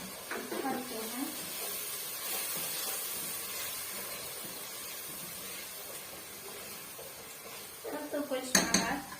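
Beans with tomato and harissa being mixed in a metal pot, a utensil clinking and scraping at the start and again near the end, with a soft hiss between the bursts.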